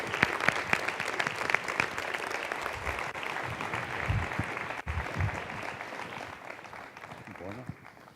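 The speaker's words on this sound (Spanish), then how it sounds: "un fortísimo aplauso para Carlos Andradas, rector de la Complutense" A large audience gives sustained, dense applause at a university alumni presentation ceremony for the Complutense rector, Carlos Andradas. The clapping stays steady and loud throughout and eases slightly toward the end, with a few voices mixed into the crowd.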